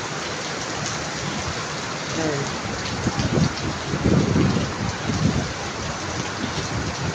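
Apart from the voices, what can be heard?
heavy rain with thunder during a flood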